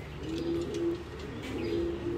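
Black exhibition pigeons coo nearby in soft, repeated, throaty calls, with a faint chirp in the background.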